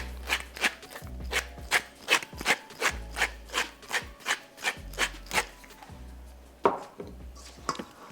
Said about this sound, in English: There's another quick toss to mix everything.